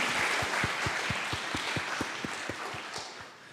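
An audience at a university student founder showcase claps together, a broad wash of applause with a steady rhythmic beat that fades slightly toward the end.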